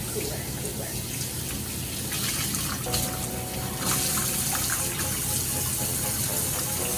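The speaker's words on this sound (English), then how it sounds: "This is already kind of starting to rinse out pretty clean." Dyed fabric rinsed under a running tap in a sink, with a loud continuous stream of water splashing and gushing over the cloth, its pitch shifting as the fabric is moved.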